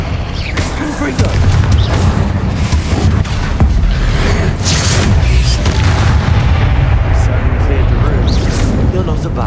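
Confringo spells burst with booming explosions during combat in Hogwarts Legacy, a dense, loud wash of blasts and rumbling impacts with voices shouting over them.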